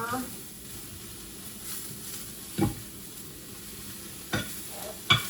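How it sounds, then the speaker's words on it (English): Baby broccoli sizzles quietly in a pan while being stirred, a low steady frying hiss broken by a few sharp utensil clicks near the end. "I'm gonna stir my broccoli."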